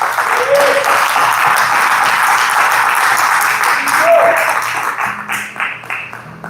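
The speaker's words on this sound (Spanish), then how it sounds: "denle un aplauso al Señor, fuerte" Church congregation clapping loudly for the Lord during a Spanish-language service, dense sustained applause with a few whoops rising over it, then thinning out near the end.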